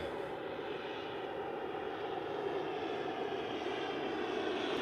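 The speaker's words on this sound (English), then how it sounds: "We've got a plane coming. That plane looks like it's coming pretty low." A low-flying jet airplane passes overhead at sunset with a broad, steady engine roar that holds at a fairly even level throughout.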